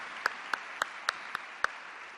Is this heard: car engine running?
no